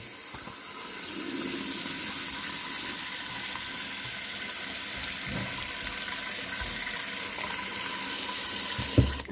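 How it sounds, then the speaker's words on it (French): Tap water runs steadily into a bowl of couscous grains being washed in a kitchen sink, a constant close hiss with a small clatter at the end; no talking. "Voilà, je vais laver les graines de couscous."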